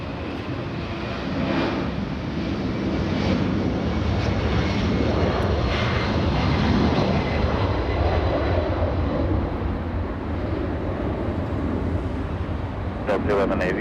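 A Delta A321 airliner takes off from LAX bound for Minneapolis, its jet engines producing a steady, broad roar that builds and holds at moderate distance across the whole stretch.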